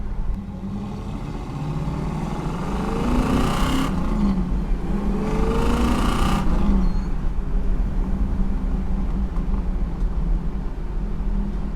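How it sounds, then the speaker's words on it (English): A 1970 Pontiac Trans Am Ram Air III with a 4-barrel carburetor and performance cam accelerates hard, its engine note rising through two surges before settling into a steady loud roar, no talk present. "Once you really get into the 4-barrel and the cam on this thing, it really lights up and takes off"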